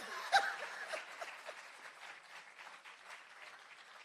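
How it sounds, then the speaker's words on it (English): Audience at a graduation ceremony for a sexual harassment investigation training course claps in a fairly quiet, scattered round that fades over a few seconds, with a little laughter mixed in. "Clap me for that."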